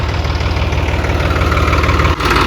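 A heavy tractor engine idles steadily with a low, throbbing rumble and constant vibration, loud and close, with a brief dip near the end.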